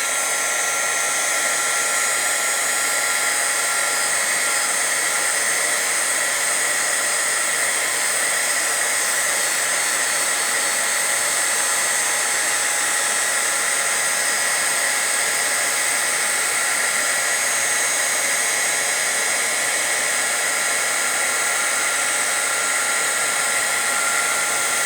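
A heat tool blows hot air steadily onto a card during rainbow card crafting, a continuous loud whooshing hiss with a high whine, unbroken for the whole stretch with no talking.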